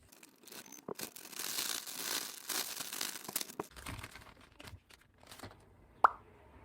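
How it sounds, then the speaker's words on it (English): Avocado and potato starch are shaken and squished together inside a plastic Ziploc bag, giving crinkling, rustling plastic and soft plopping over several seconds, ending with one sharp tap. "add avocado and the potato starch to the Ziploc and mix well"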